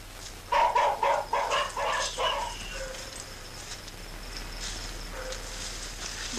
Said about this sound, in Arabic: انت سامع اصوات الكلاب